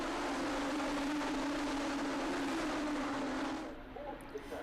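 Race cars roar together at the start of a 20-minute sprint race at Magny-Cours, a steady distant engine drone that fades slightly toward the end.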